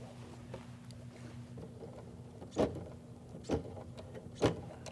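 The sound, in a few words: sewing machine stitching through pants zipper layers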